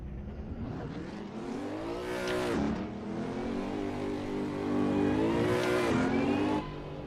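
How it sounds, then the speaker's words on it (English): A race car engine in the Assetto Corsa video game revs up and down twice while drifting, in long rising and falling sweeps, loud and close, with no talking. "hopefully my game volume's a little bit louder, as in the engine sound this time"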